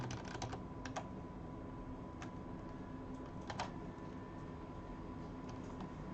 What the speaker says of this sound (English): hammering the same key does fix it